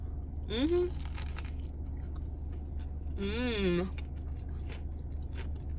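Close, crunchy chewing and biting of food during a mukbang chat, with moist mouth sounds, a couple of brief high tonal sweeps, and a steady low hum underneath.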